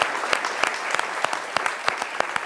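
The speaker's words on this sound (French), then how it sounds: "Il faut applaudir, il faut l'encourager" Audience applause on a French midday TV show, a brief burst of sharp, sparse claps in an irregular patter, fairly close and clear, with no talking.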